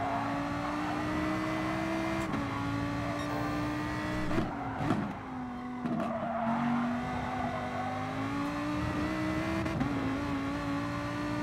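A race car in Gran Turismo Sport drones at high revs through a lap, a steady buzzing engine note that dips and climbs as it shifts and oversteers through a left-hand corner, with brief tire noise.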